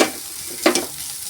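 Beetroot drops into a hot pan with red chili powder and turmeric, a close, steady sizzle with a short louder burst of frying and stirring in the middle, no voices.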